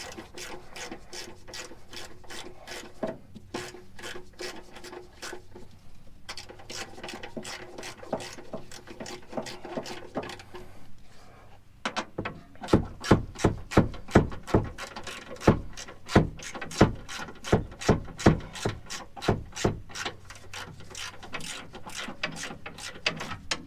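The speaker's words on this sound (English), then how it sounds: "we're going to go ahead and begin to tighten down with a ratchet" A hand ratchet tightens the rear strut bolts on a Honda Ridgeline, producing long runs of rapid close clicking that turn into louder, more spaced bursts of clicks in the second half.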